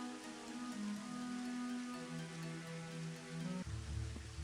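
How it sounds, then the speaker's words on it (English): Rain falling in the video game Daggerfall makes a faint, steady hiss under sustained tonal game music that shifts lower near the end. "Kind of want to wait for it to stop raining if I can."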